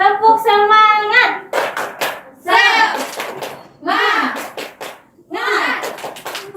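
A standing classroom group performs a rhythmic tepuk semangat ice-breaker clap, with short bursts of unison clapping alternating with children chanting loudly in between.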